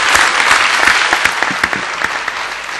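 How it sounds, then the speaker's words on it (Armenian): A loud, full round of audience applause for musicians after a clarinet, duduk and shvi performance, a steady dense clapping from a nearby crowd with a few sharper individual claps standing out. "Ծափարենք մեր երաժիշտներին"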